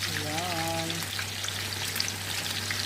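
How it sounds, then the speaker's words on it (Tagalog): Fish, galunggong, frying in a pan crackles and sizzles steadily at close range, with a faint hum and a brief voice-like tone early on. "Nagprito ako ng isda."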